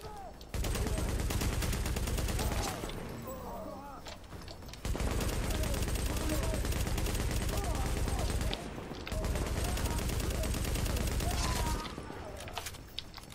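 Heavy gunfire from a large weapon in the video game The Division, heard as three long sustained bursts of loud, dense firing separated by brief pauses.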